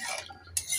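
Snails with salt and turmeric are stirred in a pan, a brief quiet scrape and rattle with a faint sizzle beneath.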